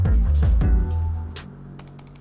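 Button clicks on a Tt eSports Nemesis 16-button gaming mouse: a quick run of five or six small, crisp clicks, close and alone, following a louder rumbling passage.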